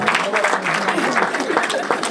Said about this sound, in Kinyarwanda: amashyi menshi dushimire ababyeyi